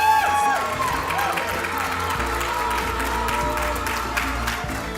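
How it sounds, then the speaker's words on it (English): A live audience at an employer-branding conference pitch contest cheers and applauds in a dense, loud, sustained roar for about five seconds, with a mix of whoops and clapping. "Cheer for them now."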